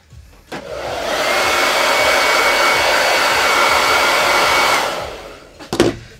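A hair dryer drying a chalk paste transfer switches on with a click and blows a loud, steady whooshing roar for about four seconds, then cuts off, followed by a couple of close handling clunks.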